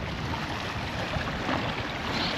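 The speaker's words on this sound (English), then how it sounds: "ain't that water beautiful?" Creek water at Caesars Creek State Park in Ohio flows in a steady broadband rush, close and continuous, with no voices.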